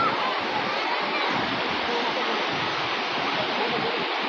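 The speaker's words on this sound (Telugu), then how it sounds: "పెద్ద పెద్ద అలలు వస్తున్నాయి" Big sea waves crashing on Velankanni beach near Nagapattinam, a loud, dense, continuous rush of surf and churning water filling the whole stretch.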